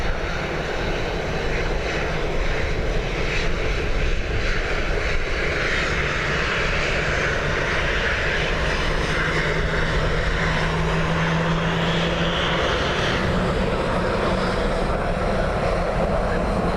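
A British Airways airliner arriving at Dublin Airport on a windy day, its engines a steady, loud broadband roar with gusting wind noise throughout and no let-up.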